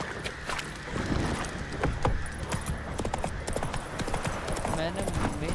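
Geralt's horse Roach gallops in The Witcher 3, her hooves beating a quick, steady clip-clop close by, with other game sounds and voices layered over the hoofbeats.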